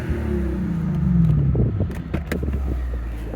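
A 2008 Lexus LS460 with its exhaust cutouts open idles and revs with a deep, steady rumble close by, the pitch sweeping down after a brief blip, with some clicks and rattles toward the end.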